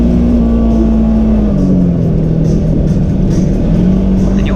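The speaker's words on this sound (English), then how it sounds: "Hear the engine rev up when I sense where I'm going" An off-road vehicle's engine drones loudly up close, its pitch rising and dipping as the throttle changes, with rumbling road noise throughout.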